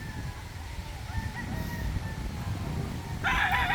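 Gamefowl roosters and stags are kept together in a yard, where low ambient rumble and faint distant calls lead to a loud, harmonic crow that breaks out close by near the end.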